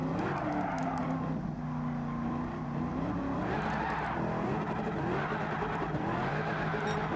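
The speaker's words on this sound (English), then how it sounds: "The car just spins. It struggles to put the power down" A Lexus RC F race car in Gran Turismo 7 spins and skids, its engine droning loudly while the tires squeal and scrub continuously, the pitch rising and falling as the car slides.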